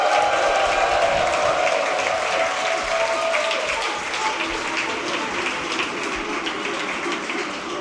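A crowd at a live Warcraft 3 tournament in Dortmund bursts into loud sustained applause and cheering that fades gradually, with a commentator's voice rising over it early on.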